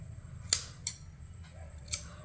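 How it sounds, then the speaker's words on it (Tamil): Scissors snip small V notches into blouse fabric, giving three crisp, separate cuts spaced across a couple of seconds over a quiet background. "இங்கே சின்ன சின்னதாக ஒரு வீ கட் பண்ணிக்கலாம்"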